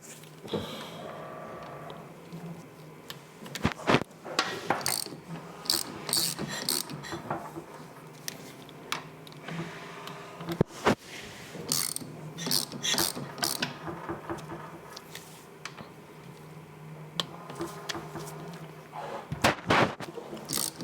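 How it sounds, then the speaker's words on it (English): A ratchet wrench tightens bolts on a Royal Enfield 350 engine during a camshaft fitting, producing close, repeated bursts of rapid clicking with short pauses and metallic handling knocks in between. "Torque these up."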